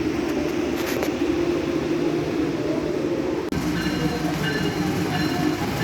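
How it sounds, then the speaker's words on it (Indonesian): Economy-class passenger carriage of the Ambarawa Express train in motion, a steady broadband rumble and rattle of the ride filling the whole span, with a brief dropout midway and faint higher clatter afterward. "Sekarang menggunakan gerbong ekonomi 106 seat, terdiri dari 2 gerbong penumpang dan 1 gerbong pembangkit."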